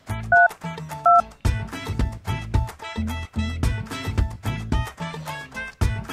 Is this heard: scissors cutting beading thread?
no